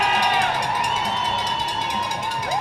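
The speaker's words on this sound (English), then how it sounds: "Cheer him on tonight, you guys." A crowd at an ice hockey game cheering and shouting during a shooting contest, a loud sustained roar of many voices with high whoops and calls layered over it.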